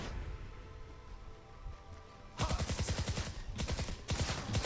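The RATATAT gun in Fortnite Save the World fires rapid, loud automatic bursts, two long strings of quick shots broken by a brief pause, after a quieter stretch of game ambience.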